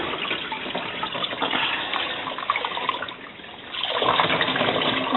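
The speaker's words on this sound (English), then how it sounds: "Doesn't matter how much water's in it, because it just drains right back in the same tank." Water drains back into the tank of a portable washing machine, making a steady close rushing and splashing that eases briefly, then swells again.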